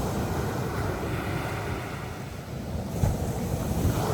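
Rough surf rolls in along the shore by a house in Antique, Philippines, during typhoon season with a strong typhoon offshore: a steady, close, broadband roar of breaking waves with wind buffeting the microphone and a louder surge near the end, no voices.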